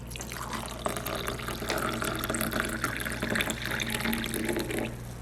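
Hot water pours from a kettle into a glass holding Milo and sweetened condensed milk, a steady close splashing trickle running for several seconds without talk.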